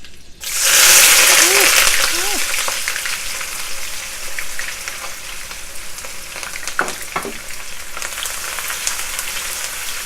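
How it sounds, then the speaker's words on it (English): Loud sizzling and crackling bursts up as onions hit hot oil in a pan, then settles into a steady frying hiss with a few scrapes of stirring. "once the oil is hot, I'm just going to add my onions inside."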